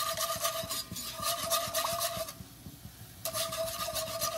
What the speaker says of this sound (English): Gonna keep stirring because you don't want it to burn it